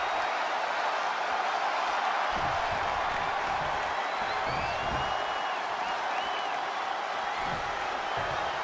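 An arena crowd in the WWE 2K20 wrestling game cheers and roars as a steady, broad wash of noise in the background, with faint whoops on top and speech-like murmurs mixed in.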